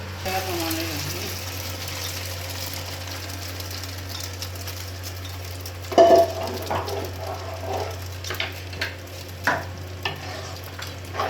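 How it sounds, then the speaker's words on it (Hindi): Boiled lentils with a little water are poured into frying masala for shahi chicken dal, giving a wet splash and sizzle with stirring clatter over a steady kitchen hum. "ये दाल मैंने बॉयल की थी, इसमें हल्का सा पानी है, ये भी हम इसके अंदर ही ऐड कर देंगे"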